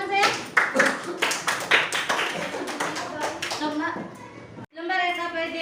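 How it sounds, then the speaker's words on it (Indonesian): Schoolchildren in a classroom clap in a brisk, fairly loud patter of applause that stops abruptly, after which a voice speaks. "Kasih tepuk tangan saya."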